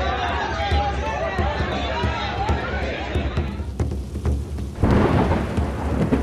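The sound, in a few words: unseasonal rain and thunderstorm in Mumbai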